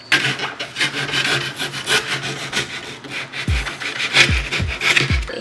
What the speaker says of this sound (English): So now we're going to carve the foam and make a nice rough platform